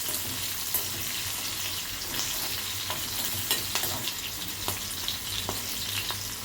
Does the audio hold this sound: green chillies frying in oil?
yes